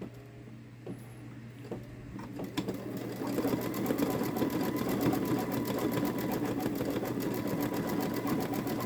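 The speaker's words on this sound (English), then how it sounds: "This part is a 3-minute stitch out. It's just filling in the grass with another shade of green." A Babylock Solaris Vision embroidery machine stitching a grass fill in green thread, starting with a few clicks and then settling into a fast, steady, close mechanical whirring rhythm.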